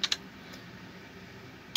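Computer keyboard keys click sharply, a quick double tap at the start and another click at the end, with near-silence and a faint hum in between, up close and without talk.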